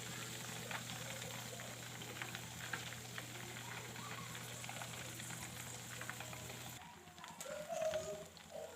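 Curry leaves crackle and sizzle in hot homemade ghee, a dense, steady frying hiss that holds close and fairly loud, then thins out near the end.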